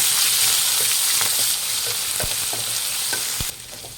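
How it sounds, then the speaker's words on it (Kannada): Onions fry in a pan with a bright, steady hiss close up, while a spatula taps and scrapes through them in irregular strokes; the sizzle drops abruptly quieter just before the end. "ಈರುಳ್ಳಿ ಫ್ರೈ ಮಾಡಿ."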